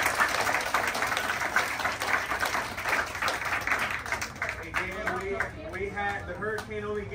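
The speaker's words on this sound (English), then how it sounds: "Round of applause to all the adults here who helped make this happen, okay?" A crowd at a youth camp applauds, a loud and sustained wash of clapping. Cheering voices rise toward the end.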